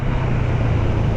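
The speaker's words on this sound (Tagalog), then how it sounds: "Ito na ang traffic guys." Steady road traffic rumbles at close range, a broad continuous wash of engine and tyre noise with no voices over it.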